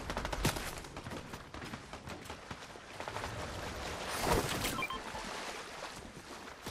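Rapid bursts of gunfire from a computer-controlled bot in a shooter video game crackle in quick, uneven volleys with a sharper burst near the end, moderately loud against a busy game background.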